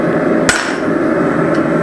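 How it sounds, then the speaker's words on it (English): A 6-pound short-handle sledgehammer strikes hot metal while forging a hammer head, one sharp loud ringing blow followed by a ringing tail over a steady background roar. "6-pound short handle sledge"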